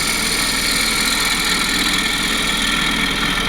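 A lathe spinning a bark-rim wooden bowl while a turning tool takes a shear cut, producing a steady loud motor drone with a continuous airy scraping hiss, no speech.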